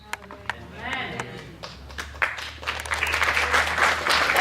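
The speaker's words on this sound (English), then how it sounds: "Oh, you clapped for that" An audience at a church faith service in Australia breaks into applause. After scattered single claps, a dense clapping swell builds and grows louder toward the end, with a speaker's voice over it.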